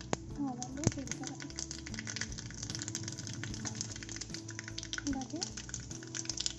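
Mustard seeds and cumin temper in hot oil for curd vadas, giving scattered crackling pops and a low sizzle close by, with a voice talking over it.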